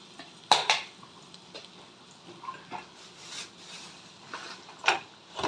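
Mashed potato drops into a pan of fried onion, ginger and green chili, with a couple of sharp metallic spoon knocks early, then softer scrapes and taps, and one more clack near the end, all close up.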